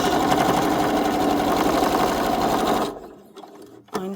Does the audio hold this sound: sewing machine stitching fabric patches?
yes